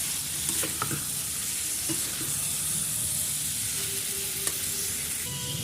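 Potatoes and peas fry in a pan, a steady close sizzle with a few stirring knocks and scrapes of the spoon, moderately quiet and continuous with no one speaking.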